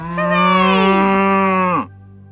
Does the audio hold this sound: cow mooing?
yes